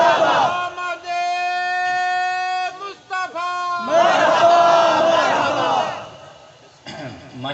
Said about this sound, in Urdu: ماشاءاللہ نعروں کا ذوق بھی اچھا ہے